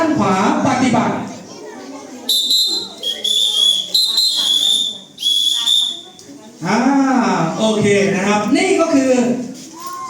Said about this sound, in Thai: สัญญาณนกหวีดและสัญญาณมือของ เจ้าพนักงานจราจร